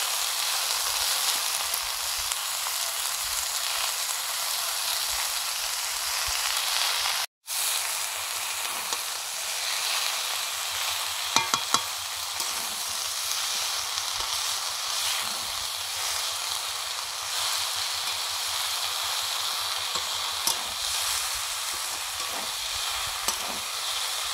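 Red spinach is added to sautéed vegetables in a pan and fries with a loud, steady, close sizzle that runs throughout, broken by a few faint scrapes of stirring.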